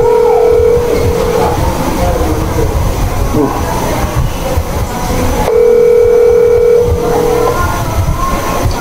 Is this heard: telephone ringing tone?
yes